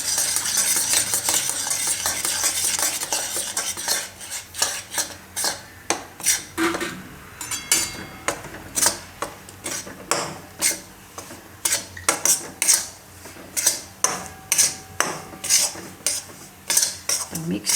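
Water chestnut flour being stirred into thick village ghee in a pan, a spoon scraping and clinking against the metal in a steady series of close, sharp strokes over a soft sizzle.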